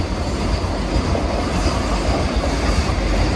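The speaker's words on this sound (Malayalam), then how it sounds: "ഇത് മറ്റേ 16 കാർ വന്ദേ ഭാരതാണ് കോട്ടയം വഴി പോകുന്നത്." A 16-car Vande Bharat express train rushes past close by on the Ernakulam–Thrissur route in Kerala, a loud, steady roar of wheels and rumbling carriages with a faint metallic squeal.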